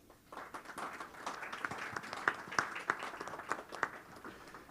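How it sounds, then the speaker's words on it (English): Audience applause for five young members of a trade union youth section, a steady crowd of clapping with a few sharper close claps standing out, rising quickly and holding for several seconds. "A big, big applause to these 5 young people,"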